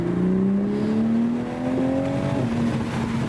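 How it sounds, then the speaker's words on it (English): A 2023 Toyota Supra fitted with an MST V2 intake pulls in third gear, the turbo giving a rising whine over a steady, loud exhaust drone heard from inside the car, with no talk. "So you can hear the turbo quite a bit. You can definitely hear the whine and stuff."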